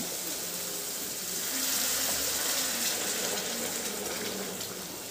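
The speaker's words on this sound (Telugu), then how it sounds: "ఆ వాటర్ ఇందులోకి యాడ్ చేసేస్తాను" Boiled water poured from a vessel into a pan of tomato upma (suji upma) on the stove, a steady close gushing splash that swells in the middle and eases off, with no talking.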